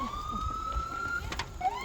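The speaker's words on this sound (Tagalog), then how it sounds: "may ambulansya na. May emergency na." An ambulance siren in Saipan holds a long, slowly rising wail at moderate distance, then breaks off and restarts, over a background of outdoor noise.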